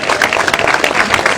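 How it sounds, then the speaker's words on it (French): A crowd at a boat christening ceremony gives a brief burst of dense, steady applause for François Damiens, loud and close throughout. "On t'applaudit."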